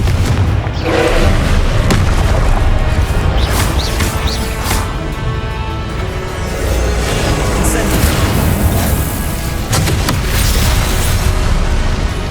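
Repeated Confringo blasting-curse explosions in Hogwarts Legacy on PS5 rumble and burst in a dense, continuous barrage of booming impacts, with a voice faintly present beneath the loud mix.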